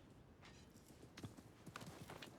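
Horse hooves in Assassin's Creed Mirage, a handful of irregular clip-clop strikes over a hissy background ambience, fairly faint and without speech.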